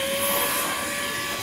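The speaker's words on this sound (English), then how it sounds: "Use your vacuum cleaner and suck it." A vacuum cleaner sucks water out of a clogged furnace drain. It gives a steady, even whine with a tonal hum, close by and with no speech.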